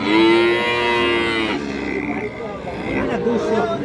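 Cattle at a village cattle market in Raniganj where improved-breed dairy cows and calves are sold, with a loud drawn-out moo at the start amid crowd noise and people talking nearby.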